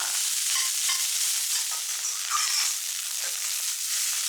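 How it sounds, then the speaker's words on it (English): Egg fried rice stirred and flipped in a hot pan over high heat, a steady close sizzle with scraping spatula strokes and light clatter running throughout, no voices. "Keep stirring on high heat"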